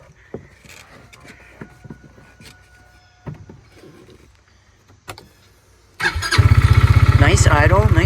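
A Tractor Supply Bighorn Explorer engine cranks and fires up loud after some quiet handling noises, then settles into a steady, rough, close idle that keeps running to the end.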